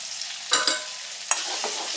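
Tomato, turmeric, red chilli powder and homemade garam masala sautéed in a pan, with a spoon scraping and stirring in a few quick strokes over a soft steady sizzle, close and alone.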